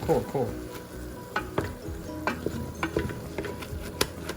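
Vegetables for paneer biryani are stirred in a pot over sizzling oil, with a steady frying hiss broken by irregular scraping and clinking strokes of the spoon, close and moderately loud, no talk.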